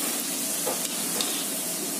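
French fries sizzling steadily in hot oil, a dense even crackle and hiss with a couple of faint clicks, close and continuous with no talk.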